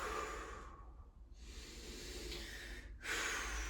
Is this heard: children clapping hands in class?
no